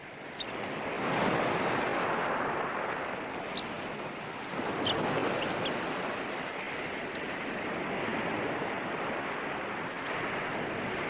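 Ocean surf breaks steadily on a shore beside drifting sargassum weed, a continuous broadband wash with swells rising and falling, plus some wind, and no voices.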